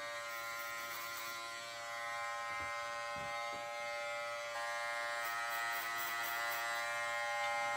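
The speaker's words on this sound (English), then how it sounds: "Working with a little clipper of a comb." A small electric hair clipper run over a comb while blending a haircut, giving a steady, faint, high-pitched motor buzz that holds throughout with only slight shifts in pitch.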